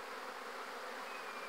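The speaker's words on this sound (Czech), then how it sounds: "Dnes je velmi slušný den a včely už létají za snůžkou." Honey bees in flight heading out to forage on a spring day amid blooming apple, pear and rapeseed, a dense steady buzzing hum filling the clip.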